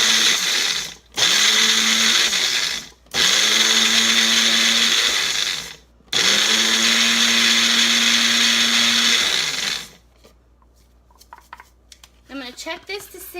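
A blender pulses five-minute oats into a fine powder, running in three loud bursts of about two seconds each with short silent breaks between them, followed by quieter rustling and handling noises at the end.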